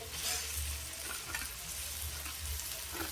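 Chopped onion, tomato and grated potato stirred and frying in a pan for a semolina and potato breakfast snack, a steady broad sizzle with low rumble and scattered stirring scrapes throughout.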